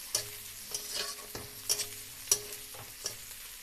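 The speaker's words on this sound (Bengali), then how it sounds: "পেঁয়াজগুলো একদম লাল লাল করে ভাজা হয়ে গেছে" Onions fry in oil in a pan for a Bengali bhola fish curry, a steady soft sizzle punctuated by several distinct scraping stirs of a spatula against the pan, close up, with no voices.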